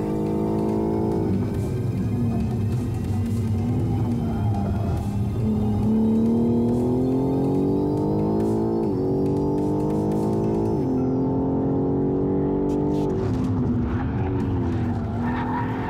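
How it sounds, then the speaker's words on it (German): BMW M4 G82 tuned by AC Schnitzer accelerating on a race track, a loud close engine roar rising through the gears with several shift drops and a brief tire squeal. "Doch beim Herausbeschleunigen sorgt der BMW Turbo Punch für Kompensation."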